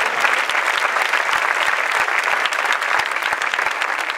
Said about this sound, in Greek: για δώστε μου ένα χειροκρότημα